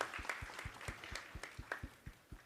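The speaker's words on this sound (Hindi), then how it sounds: "बहुत जोरदार तालियों के साथ मैडम का अभिनंदन करेंगे।" An audience at a university event applauds a guest with a thin, sparse patter of claps, individual hits spaced out and fairly faint in a large space.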